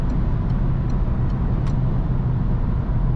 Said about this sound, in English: Noise from tires, noise from engine being revved high.